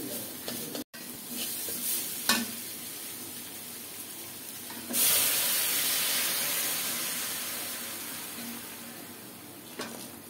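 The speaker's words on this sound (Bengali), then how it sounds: "এখন জল দিয়ে দিচ্ছি।" Water poured into a pan of frying spice paste made with cumin, turmeric, salt and chili, bursting into a loud hiss of sizzling and steam that slowly fades, with a few sharp clinks of a utensil.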